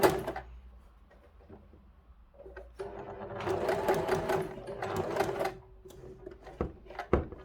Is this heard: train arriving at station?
no